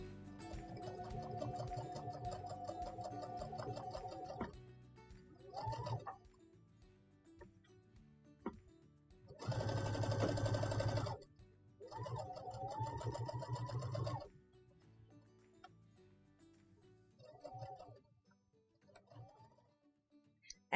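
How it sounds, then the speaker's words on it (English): A home sewing machine stitches a diamond quilt along tack-down lines, with a steady mechanical whir in a few separate bursts, the loudest near the middle, separated by quieter pauses and handling sounds. "Now let's take it to the sewing machine."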